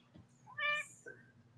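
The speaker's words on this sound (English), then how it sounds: "Oh, I heard the kitty." A single cat meow, clear and fairly close, followed by a brief softer chirp against a faint low hum.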